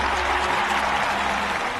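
Applause for farmers from a crowd in a scene of a Hindi-dubbed action movie, a dense, steady wash of clapping from many hands throughout, fairly even and sustained.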